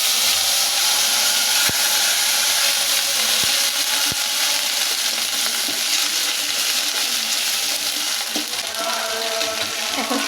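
Ginger and cumin paste fries in hot oil with tempered black cumin, radhuni, white cumin and bay leaf, giving a steady, loud sizzle throughout, with a few sharp clicks near the start.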